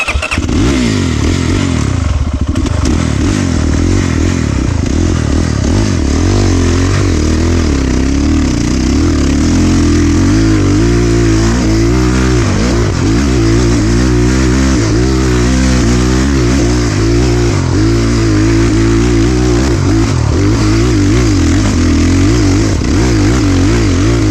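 A Chinese motorcycle engine fires up and runs close and loud, settling into a throbbing idle with repeated rising and falling revs throughout.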